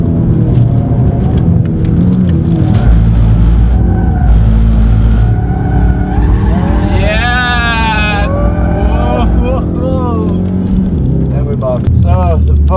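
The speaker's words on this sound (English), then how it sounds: "Focus RS on the track," A Ford Focus RS drifting on a race track: a loud, sustained engine drone with rising revs and tyre squeal near the middle, close by, with people's voices over it.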